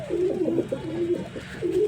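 Pigeons coo in low, throaty bursts, several repeated calls rolling one after another up close with no talking.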